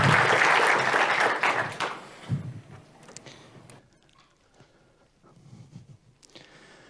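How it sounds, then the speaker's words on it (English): A symposium audience applauding loudly for about two seconds before the clapping quickly dies away, leaving scattered footsteps and small stage noises in a quiet hall. "give him a warm round of applause"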